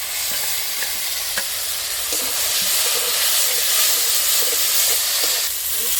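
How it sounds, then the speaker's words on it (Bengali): Ground spice paste fries in a pan for a fish curry with stalks of greens, a loud, steady hissing sizzle with faint scattered clicks from stirring throughout. "বেটে রাখা মশলাগুলো সব দিয়ে দিচ্ছি।"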